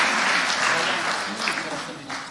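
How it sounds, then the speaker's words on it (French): Church congregation applauding with broad, steady clapping that fills the room for a couple of seconds, with voices mixed in under the applause. "On peut les applaudir."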